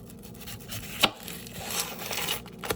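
A knife slices the small tail end off an onion on a cutting board, making one crisp, close chop followed by quieter scraping and a second light tap.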